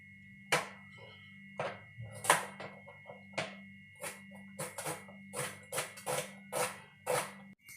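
A knife chops an onion on a cutting board for pakoras, about a dozen crisp, uneven thuds close up over a faint steady hum, with no talk.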